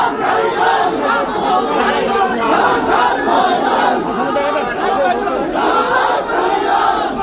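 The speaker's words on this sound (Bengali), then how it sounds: "স্লোগান দেওয়া হইল জয় বাংলা বিলা" A dense crowd of many voices chants a rhythmic slogan together at a court, a loud, continuous roar of repeated shouting with no single voice standing out.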